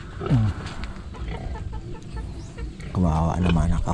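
A chicken clucks near a backyard pig pen, a couple of brief clucks close by, mixed with people chatting nearby.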